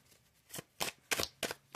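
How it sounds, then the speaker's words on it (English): Tarot cards being shuffled from a deck, five crisp riffling bursts in an irregular rhythm, close and fairly loud against a quiet room with no talking. "Okay, 3 more shuffles from this deck"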